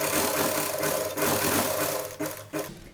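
A sewing machine runs steadily while stitching along the edge of a child's Patiala dress, with a dense mechanical whir that briefly pauses near the end before resuming.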